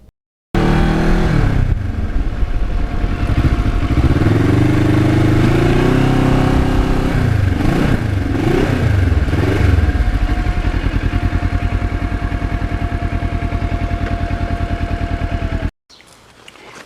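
A restored 2009 Kawasaki Ninja motorcycle is ridden at steady speed, its engine droning loud and close for about fifteen seconds with rising and falling revs and wind rush, then cutting off abruptly.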